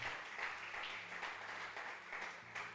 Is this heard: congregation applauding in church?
yes